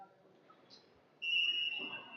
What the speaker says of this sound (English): Whistle blows, jam is on.